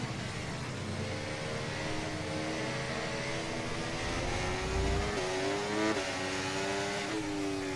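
Formula 1 race car in the F1 24 video game at the Hungarian Grand Prix, a steady high-pitched engine whine with gear shifts and rising revs, heard close and continuous with no talk.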